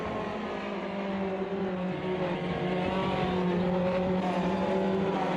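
Race cars in Automobilista 2 drone past in a replay overtake, a steady loud engine whine with layered harmonics holding nearly constant pitch throughout.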